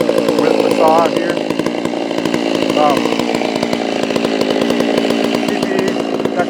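A Holzfforma G660 chainsaw roars loudly while milling wood, its engine pitch rising and falling as it works through the cut, with a voice speaking faintly under the noise.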